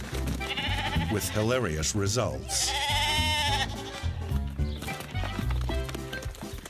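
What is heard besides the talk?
sheep bleating as flock scatters on ice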